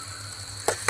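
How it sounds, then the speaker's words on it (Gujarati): A tempering for dal sizzles in hot oil with a steady low hiss, then two sharp spattering bursts close by, and no talk. "હવે વઘારી દીધું છે."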